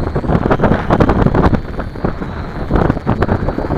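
Strong wind buffets the microphone outdoors on a windy day while flying an FY326 quadcopter, loud gusty rumbling pulses that surge and ease continuously.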